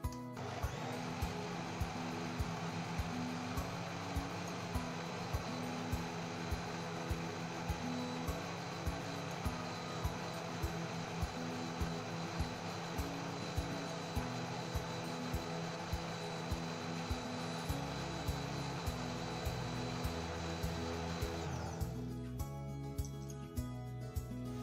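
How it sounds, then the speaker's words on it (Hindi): A blender runs steadily, whirring loud and close as it blends black grape lassi with yogurt and low-fat milk, the motor drone continuous for over twenty seconds before its tone shifts near the end; no voices. "अब हम इसे थोड़ी देर और ब्लेंड कर लेंगे।"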